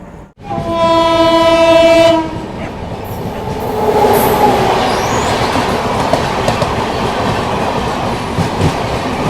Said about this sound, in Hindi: अपनी ट्रेन का डिपार्चर हो चुका है ऐसबाग रेलवे स्टेशन के प्लेटफॉर्म नंबर 3 से